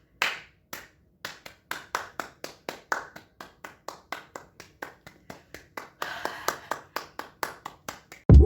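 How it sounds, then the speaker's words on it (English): A single pair of hands claps in a steady rhythm, about three claps a second, close and crisp, alone with no talk, ending with a brief bump. "clap your hands."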